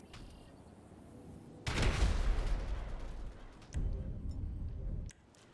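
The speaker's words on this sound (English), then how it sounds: "Once there, blow open the entrance to the mine and head on in." An explosion blasts open a mine entrance in GTA V: a sudden loud, broad roar that holds for several seconds, swells again with a second burst, then cuts off into quieter ambience.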